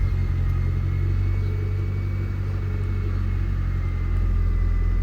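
A 2005 Honda Civic with a 1.7 liter engine idles steadily after starting, giving a constant close, loud, low rumble with no voices.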